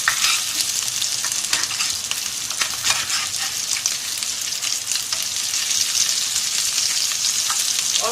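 Potatoes sizzle and crackle steadily in a hot pan while being roasted, with a dense, continuous frying hiss and occasional small clicks as pieces are turned; no one speaks.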